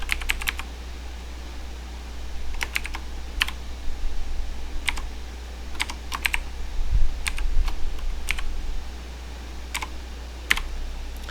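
Steady typing on a computer keyboard, close and clear, with irregular bursts of key clicks and short pauses over a low constant hum, no voices.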